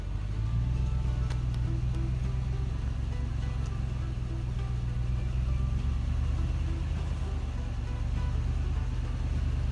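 A Lexus LX470 crawling an off-road trail near Moab, Utah in 4 low with the center diff locked, its engine a steady low rumble throughout with no talking.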